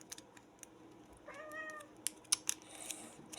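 A nearby house cat gives one short meow midway, surrounded by faint clicks and rustling from a chocolate bar wrapper being handled, with no talking.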